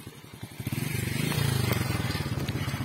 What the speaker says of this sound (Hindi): मोटरसाइकिल चालू है